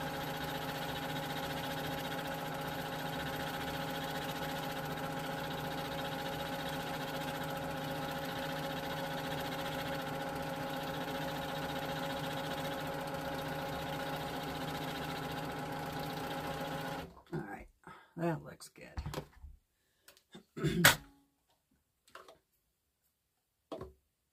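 A sewing machine stitches a jelly roll quilt with a steady, continuous mechanical whir for most of the stretch, then stops abruptly and leaves only a few scattered clicks and handling knocks.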